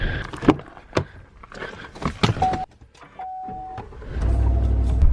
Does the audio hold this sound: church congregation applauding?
no